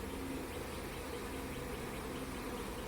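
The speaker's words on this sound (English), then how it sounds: "Look at all those bees." A dense, steady buzzing of many honey bees in an open hive hums continuously, close and constant, with no talking.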